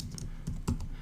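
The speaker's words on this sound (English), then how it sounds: "hit the search or the enter key on my keyboard" A few soft, irregular keystrokes on a computer keyboard while typing a city name into a Windows Phone 8 search field, quiet and close with a faint background hum.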